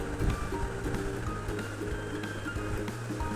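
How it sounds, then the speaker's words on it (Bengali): A little water is added to meat frying in a pan, giving a soft, continuous bubbling hiss at low volume throughout, with no voices. "ভাজা হয়ে গেলে এর মধ্যে দিয়ে নিব সামান্য পরিমাণে পানি"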